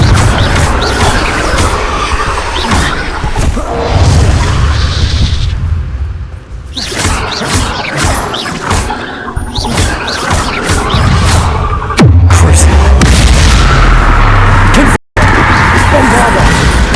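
Confringo fire spells burst in Hogwarts Legacy with repeated loud, booming explosions and whooshing blasts, one after another at close range, while a person talks over the action.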